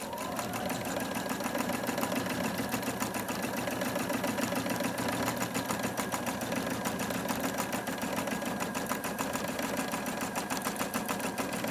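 A sewing machine runs continuously while stippling in free motion quilting, its rapid needle stitching producing a steady, even mechanical chatter that stays close and constant throughout with no pauses.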